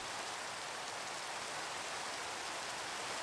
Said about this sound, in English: It's raining very hard.